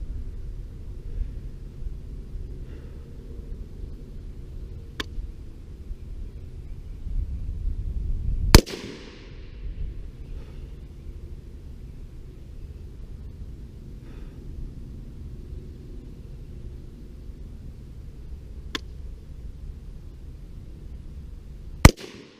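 Single AR-15 rifle shots fired while zeroing a Holosun red dot sight at an outdoor range, a loud close crack with a decaying tail, then long quiet pauses with fainter sharp reports later.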